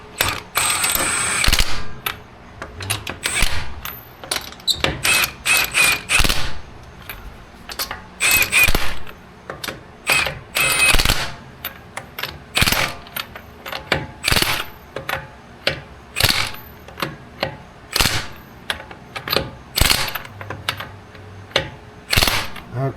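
A hand ratchet snugging the wheel lug nuts on a Mazda 6 during a rear brake job, with loud, close, rapid clicking in repeated bursts, short pauses between runs and no talk.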